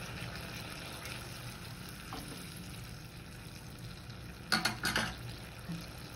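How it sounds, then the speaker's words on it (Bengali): Paneer goes into a pan of water for paneer posto, with a low background simmer and a short cluster of clinks and splashy stirring sounds near the end. "আমি আরেকটু জল দিয়ে দেবো, এবার আমি দিচ্ছি পনিরগুলো"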